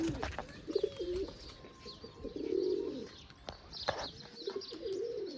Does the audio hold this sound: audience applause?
no